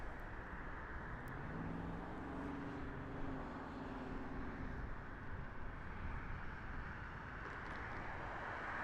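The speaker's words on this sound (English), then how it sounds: "this is going to be Southwest Flight SWA 1180 heading over to Denver, Colorado, and this is going to be a Boeing 737" A Southwest Boeing 737 at Las Vegas Harry Reid International Airport, its engine roar a steady, fairly distant broadband rumble that holds throughout, with a brief tonal whine early on.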